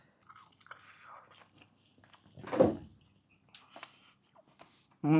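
Someone bites into Malaysian KFC fried chicken, with one loud close crunch, then softer chewing and mouth sounds in a quiet room.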